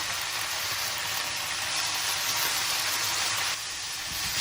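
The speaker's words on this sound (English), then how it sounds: "add the Chinese cabbage. Then add soy sauce and salt. Quickly stir-fry it with the cabbage for about 20 seconds." Chinese cabbage with soy sauce and salt hisses and sizzles in a hot wok, a dense, loud, continuous frying noise with no talking over it.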